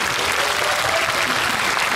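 Audience applause for a film director at a cinema stage event: steady, dense clapping from a large crowd, loud and continuous throughout with no voices over it.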